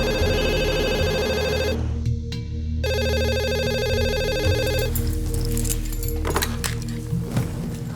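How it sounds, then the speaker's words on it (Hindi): An electronic phone ring sounds in repeated tonal bursts with a short pause, over a background music bed, followed by clicks and shuffling. "वो सीधा आदित्य की मम्मी को फोन मारने लगा।"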